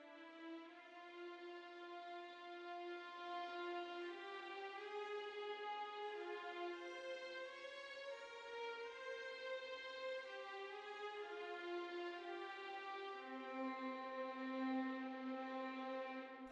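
A sustained, airy legato string line from the Spitfire Audio Albion V library's Air and Ice patch, moving smoothly between notes at a soft, even level with no talking.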